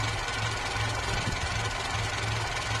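A 1985 Polski Fiat 125p with an FSO 1500 engine, revived after twenty years in a shed, idles with a slight roughness, producing a steady, close, even mechanical drone with a faint knocking pulse and no talk.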